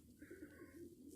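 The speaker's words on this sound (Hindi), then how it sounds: "ये देख लें कबूतर" A rooftop male pigeon coos in a low, rolling run of a few throaty pulses, quiet and close with no speech.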